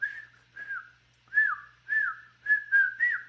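A person whistles in imitation of a whistle blown to lead morning stretches and exercises, giving about seven short, clear, swooping tones in a steady marching rhythm, close and fairly loud.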